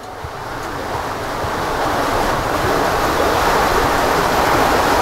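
Broadband rushing of river water fills the whole stretch, steady and fairly loud throughout, close to the microphone with a slight wind-like roar and no voices.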